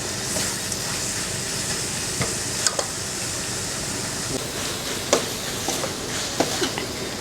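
Spicy frog being stir-fried in a pan gives a steady, loud hiss, broken by a few sharp clicks and scrapes from stirring.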